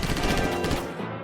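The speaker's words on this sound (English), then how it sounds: "Killick starts shooting at him, killing him before he has a chance to react" Rapid bursts of gunfire from a film shootout in the White House Down action movie, a dense, loud, continuous volley of shots that thins out toward the end.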